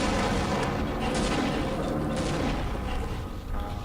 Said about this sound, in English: lob all my grenades nonetheless